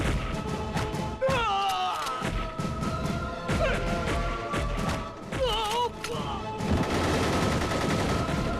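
Dense bursts of gunfire crack and thud over a loud, tense musical score, with scattered impacts and no pauses, close and chaotic throughout.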